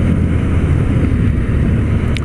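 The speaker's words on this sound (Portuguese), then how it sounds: "E olha como você pode explorar bem aqui o freio motor" A Honda CB1000R Barracuda motorcycle decelerating on engine braking gives a steady, loud, low rumble mixed with heavy wind buffeting, continuous throughout.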